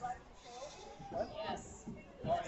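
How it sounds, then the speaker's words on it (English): A dairy goat bleats in the show ring at a livestock market judging, several wavering cries spread across a few seconds, fairly faint and mixed with nearby talk. "we got a dairy producing goat"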